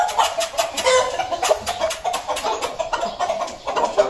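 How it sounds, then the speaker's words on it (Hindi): Light Columbian Brahma rooster and hen clucking close by in a steady run of short, overlapping clucks with a few sharper calls, continuous throughout and with no talk over it. "मुर्गा मुर्गी अलग अलग कर लेते हैं, मुर्गी तो उसमें आ जाएगी। अभी आ गया भाई मुर्गा"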